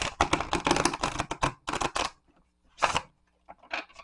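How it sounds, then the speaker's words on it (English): A tarot card deck being shuffled by hand, with bursts of rapid fluttering card clicks and riffles, then a few shorter isolated flurries separated by near silence, close and crisp. "to riffle shuffle the way I like to"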